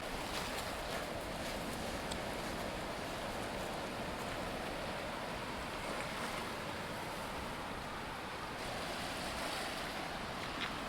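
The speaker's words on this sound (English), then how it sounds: "So here's a little bit of close-up seaside footage." Steady roar of sea waves washing onto a beach, continuous broadband surf noise with no speech, moderately loud throughout.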